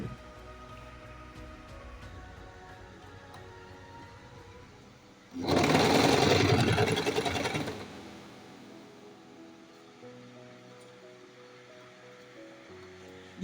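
Sewing machine stitching two fabrics together for a turban, a steady whirring run of about two and a half seconds, louder than the quiet room around it.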